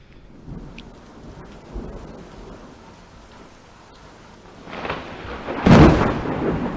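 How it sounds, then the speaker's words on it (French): Rain falling outdoors with a rumble of thunder, steady patter underneath and a louder, closer crack and roll of thunder building near the end. "apparemment il pleut dehors"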